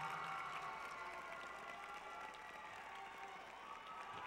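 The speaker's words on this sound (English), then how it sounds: "Let's give this group of young people a very special round of applause for all of their hard work behind the scenes" A large audience applauds steadily for a group of young people at a 2010 ceremony, a dense, even wash of clapping with faint cheering, sustained at a distance throughout.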